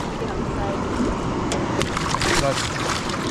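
Water splashes and sloshes steadily as a fish, scarred from a spillway, thrashes in a net. Louder bursts of splashing come in the second half, with voices under the noise.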